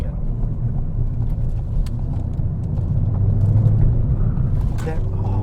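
A Ford Fiesta ST mk7 hatchback rumbles steadily from inside the cabin as the driver lifts off the throttle, the engine and road noise holding a low, dense drone.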